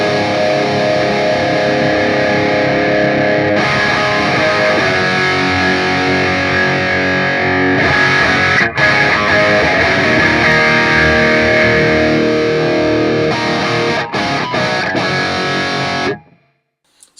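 Held guitar chord through a Hotone Ampero amp modeler with heavy distortion, loud and sustained for about sixteen seconds with its tone shifting as settings move, then cut off abruptly.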